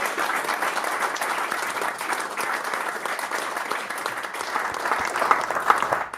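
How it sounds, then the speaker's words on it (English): An audience at a golf prize giving claps steadily in a dense, sustained round of applause that stays even in volume, with a few louder claps standing out near the end. "So a wee round of applause for Colin."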